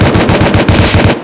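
Rapid automatic gunfire in a PvP video game, a loud close burst of evenly spaced shots rattling off in quick succession before cutting out abruptly.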